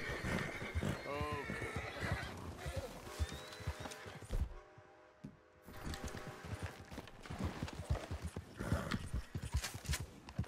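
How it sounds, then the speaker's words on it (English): Wild horses in the video game Red Dead Redemption II gallop with busy clip-clopping hooves and a clear neigh early on, while a person talks over the sounds. "Wild horses."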